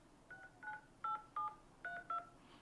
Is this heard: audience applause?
no